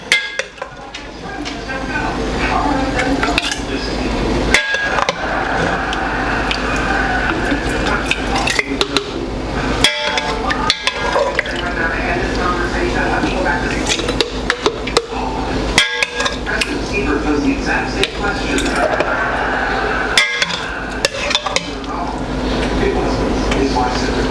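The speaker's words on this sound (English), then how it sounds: "we are going to get our salsa ladled into our jars" Roasted corn salsa ladled into glass jars, with repeated knocks and clinks of ladle and glass over a kitchen hum, and someone talking throughout.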